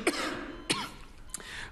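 A man gives two or three short, dry coughs in quick succession, close and moderately loud, against a quiet background.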